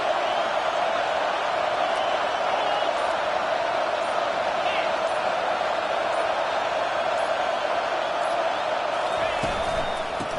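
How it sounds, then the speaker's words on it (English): Stadium crowd roaring loudly and continuously in a college football video game, a steady wall of noise with talk faintly underneath. "This crowd, full throat, splitting the eardrums and letting them know it's going to be a long day"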